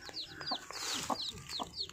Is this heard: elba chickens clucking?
yes